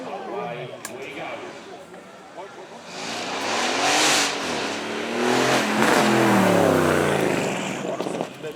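A supercar engine at Beaulieu Supercar Weekend roars as the car accelerates away, a loud rising rev building over several seconds and sweeping through the gears, with crowd noise and commentary running underneath.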